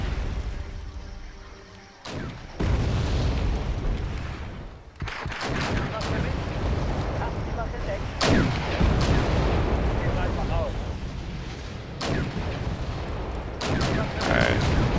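Tanks fire in the video game Wargame European Escalation, a series of loud booming cannon shots at irregular intervals over a constant rumbling battle din.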